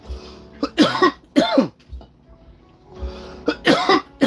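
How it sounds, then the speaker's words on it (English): Several close, sharp coughs in two bursts separated by a quiet pause, with throat-clearing roughness, from a person at a toy box opening. "Unrelated cough."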